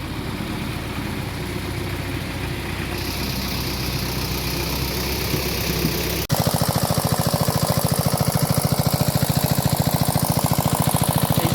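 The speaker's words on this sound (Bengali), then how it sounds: "আজ আমাদের পুকুরে মেশিন দেওয়া হয়েছে" A water pump engine draining a village pond in the Sundarbans runs steadily, then shifts abruptly to a louder, harder, rapidly pulsing chug.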